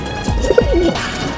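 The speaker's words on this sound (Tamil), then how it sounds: "பாருங்கள் இது நம்மக்கிட்ட ஒரு புறா இருக்குது டாமராவில்." A loft pigeon coos close by: one short, soft, throaty phrase of low rolling notes, loud and alone.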